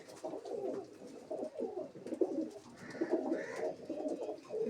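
Several pigeons coo softly and repeatedly inside a tin-roofed loft, their overlapping, throaty calls rising and falling close by with no talking.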